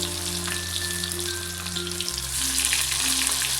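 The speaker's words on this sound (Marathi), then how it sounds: "आता कांदा भाजू." Onion frying in hot oil for a village-style bombil curry, a steady close sizzle under a low background hum, growing slightly louder in the second half, no voices.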